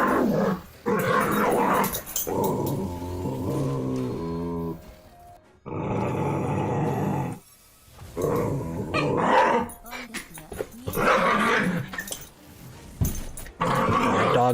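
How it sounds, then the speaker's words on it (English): Several dogs bark, growl and yap in the background of an indoor room while a person talks over them, the barking coming in loud, uneven bursts between stretches of speech. "Dogs are going crazy in the back."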